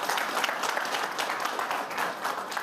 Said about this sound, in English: We can clap for them now.